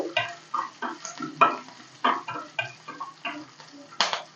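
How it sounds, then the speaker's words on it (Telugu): Green chillies and garlic cloves fry lightly in a pan, sounding as a series of crisp sizzles and scraping stirs that come in regular strokes, close and fairly clear. "పచ్చిమిర్చి ఇలా వేగితే సరిపోతుందండి"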